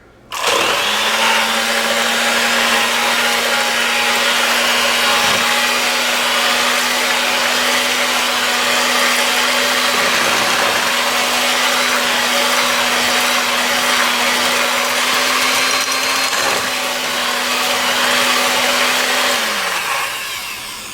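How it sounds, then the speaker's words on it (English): An electric hand mixer beats crêpe batter with a drop of vanilla, a loud steady motor whine that holds one even pitch for about twenty seconds before winding down at the end. "And now we're going to beat together all of our ingredients here."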